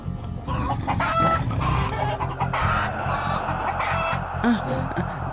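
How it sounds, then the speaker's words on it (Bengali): Several chickens cluck and squawk in an agitated chorus at night over a dense, busy background, with a voice speaking partway through. "মুরগিগুলো এরকম ভাবে ডাকছে কেন?"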